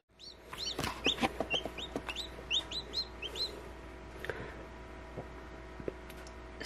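Newly hatched chicks in an incubator peep in rapid, high, close chirps, busy at first and then thinning to occasional faint calls over a steady low hum.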